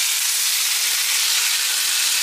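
Rice stir-fried in a hot pan while making mushroom risotto, giving a steady, close sizzling hiss that runs evenly throughout with no pauses and no voices.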